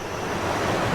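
Rushing water crashing down in a Resident Evil story scene, a dense, steady roar of churning water and surf-like noise that fills the whole second without a break or any voices.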